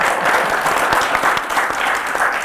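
University welcome event audience applauding a speaker, a dense burst of many hands clapping close and loud for a couple of seconds.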